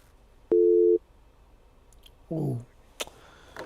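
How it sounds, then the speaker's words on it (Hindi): A TV call-in line cuts off during a live viewer call, giving a single loud, steady tone that lasts about half a second, followed by scattered clicks and brief noises. "फ़ोन कट गया है"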